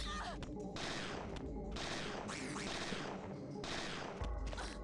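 Spread gunshots in the video game Parasite Eve II, dense overlapping bursts of rapid fire, loud and continuous, with a few sharper cracks.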